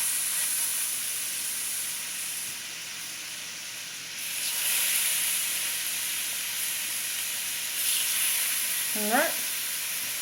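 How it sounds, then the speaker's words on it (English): Thin, small burger patties sizzle and hiss steadily on a hot griddle, with brief scraping touches near the end and a short spoken word at the start. "we're going to place our burgers down on our griddle"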